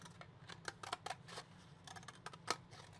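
Small cutting of a thin fingerboard strip, a quiet series of irregular snips and crisp clicks over a low background hum, close and faint.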